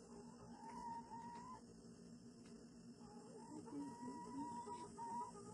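Chickens in a coop cluck softly and intermittently against a steady outdoor hum of insects, with no one talking.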